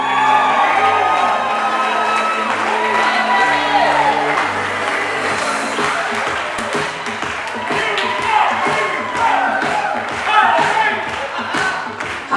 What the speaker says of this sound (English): A big round of applause for our bridesmaid, Abby Mayette, escorted by our groomsman, Randy Forcier